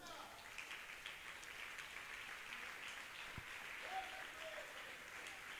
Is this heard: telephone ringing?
no